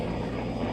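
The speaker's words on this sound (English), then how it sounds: "Helicopters are flying overhead." Helicopters fly overhead during a protest standoff with police, giving a steady, fairly loud rotor-and-engine rumble with no talk over it.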